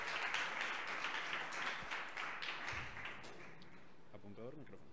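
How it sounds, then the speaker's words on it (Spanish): An audience applauds for a winning team at a data science event, the clapping fading toward the end as faint voices come through. "Un aplauso para los uno de los equipos ganadores del reto"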